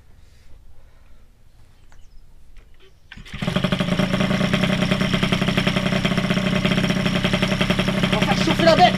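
An MBK 51 moped engine catches after a few seconds of quiet fumbling and runs at a steady, close, buzzing two-stroke idle as it warms up, with a slight rise in revs near the end.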